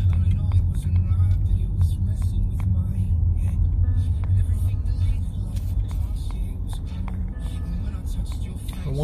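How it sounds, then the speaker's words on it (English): Cars idle and creep along in heavy San Diego road traffic, a low, steady engine rumble close around a car, with people talking inside. "I just can't believe this traffic."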